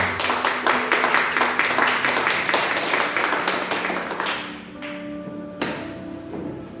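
Church congregation clapping for the Lord during a sermon service, a steady rhythmic burst of many hands close by that fades out, followed by quieter sounds and a sharp thump.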